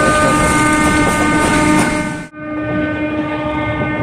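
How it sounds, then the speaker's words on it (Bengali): A train clatters loudly along the tracks with a steady rumbling roar and tonal hum, briefly dipping as if passing a gap, then continuing. "ট্রেনের এই ঝকঝক শব্দ আমার কাছে কিন্তু অসাধারণ লাগে"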